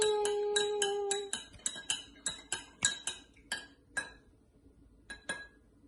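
A spoon clinks rapidly against a glass while stirring homemade lemonade, a bright ringing series of taps that gradually slows into sparser, decaying chimes, close and with no talking.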